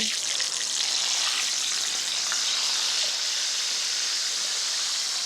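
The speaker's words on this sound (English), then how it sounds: "And then passing them through really hot oil." Sauce-drenched tortillas frying in very hot oil for enchiladas de suelo give a steady, dense sizzle that holds evenly throughout, fairly close with no voices.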